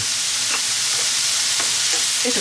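Sliced onions sauté in a pan for Japanese curry, giving a steady, close, loud sizzle with a few soft stirring scrapes and no talk.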